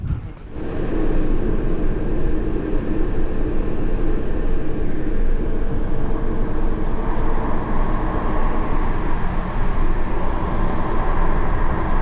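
Steady low rumble of a moving train in Hungary, a continuous broadband roar with a faint hum, no talking.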